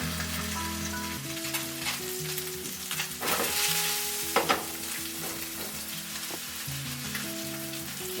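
Salmon fillets sizzling steadily in hot butter in a pan, a continuous dense crackle with scattered pops, while a faint tonal hum runs underneath throughout.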